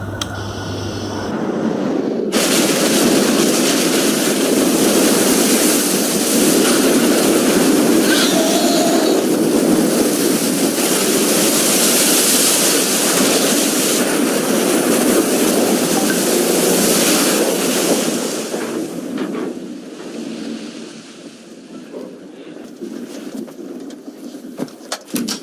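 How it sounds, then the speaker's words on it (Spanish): An airliner ditching onto the Hudson River in the film Sully: a loud, sustained roar of rushing air and engine noise that swells, holds for about fifteen seconds, then falls away into quieter rumbling. "no tiene otra opción que recurrir a un aterrizaje muy raro, que es el aterrizaje en el río Hudson"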